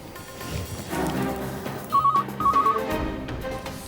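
A telephone rings in two short electronic trilling bursts, moderately loud, over a muffled background of room noise.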